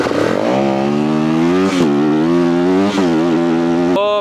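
Motocross dirt bike engine starting and held at a slight throttle opening in first gear instead of idling: a loud, close, steady buzzing engine note with small pitch rises and a brief blip at the end.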